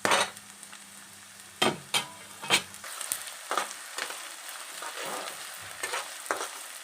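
Egg bhurji frying in a pan on the stove while a spoon stirs it, giving a steady low sizzle broken by irregular scraping knocks against the pan, close and moderately loud.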